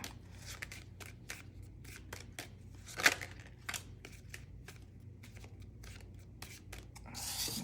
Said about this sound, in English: Sloppy ass shuffling.